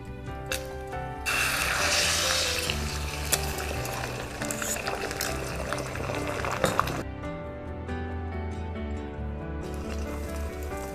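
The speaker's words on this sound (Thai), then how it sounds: "พอน้ำมันร้อนแล้วนะคะ คุณแม่ก็จะเทไข่ใส่ไปใน กระทะไฟฟ้าค่ะ" A loud sizzle and crackle bursts out as beaten egg hits hot oil in an electric pan, frying steadily for several seconds before easing to a softer hiss.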